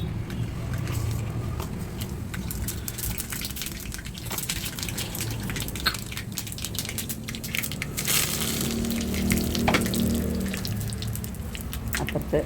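Mustard seeds and curry leaves temper in hot oil for a prawn curry, a continuous close crackling sizzle with scattered sharp pops and spatters, fairly quiet and without talking.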